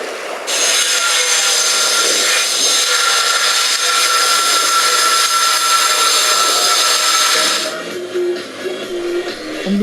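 A steady, harsh grinding of building work at a hotel in Thailand, like sawing or cutting, runs loudly for several seconds and then cuts off, leaving quieter background noise.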